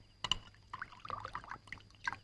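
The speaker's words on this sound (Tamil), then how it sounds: "தண்ணி ஊத்து" Drinking water from a bottle is poured into a tumbler in short splashy bursts with gurgles and trickles, close and fairly quiet over a low steady hum.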